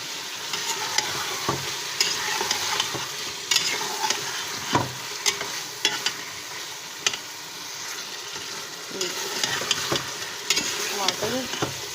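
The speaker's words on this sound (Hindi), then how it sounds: "टमाटर को फ्राई करना है साथ में" Tomatoes frying with meat in a pan for a turnip and spinach curry, a steady close sizzle broken by frequent spoon scrapes and knocks as the mixture is stirred; no talking.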